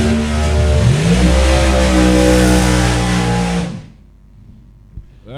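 Supercharged outlaw drag racing cars, including a 540-cubic-inch 1934 coupe, rumble loudly and steadily at the start line with engines revving, then cut off abruptly, leaving near silence before a brief thump.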